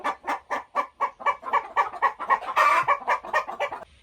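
Homestead chickens cluck in a rapid, rhythmic run of about fifteen close, loud clucks, one sick bird among the flock, with no talking.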